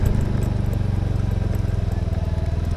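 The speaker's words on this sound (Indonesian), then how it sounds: "Oke, parkir motor." A motorcycle engine idles close by with a steady low chugging pulse as the bike is parked in a village setting, loud and constant throughout.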